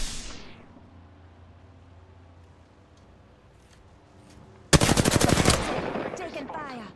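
Rapid automatic gunfire bursts in the Apex Legends arena mode, a quiet stretch of game ambience giving way to a loud, dense volley of rattling shots near the end.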